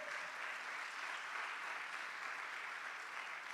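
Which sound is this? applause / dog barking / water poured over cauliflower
applause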